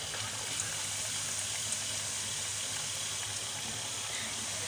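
Chicken bread rolls and patties fry in hot ghee, giving off a steady, dense crackling sizzle that holds evenly from start to finish with no voices.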